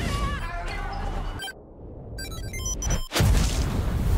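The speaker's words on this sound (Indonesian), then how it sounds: "Itu adalah bom khusus dan segera meledak." A loud, deep explosion bursts out after a sudden silence, with a heavy rumbling boom and crashing noise following a stretch of tense musical tones.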